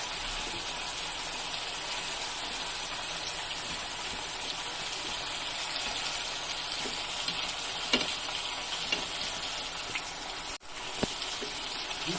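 Steady, crackling sizzle of tuna belly frying in hot oil, continuous and close, with an occasional louder pop and a brief clatter near the end.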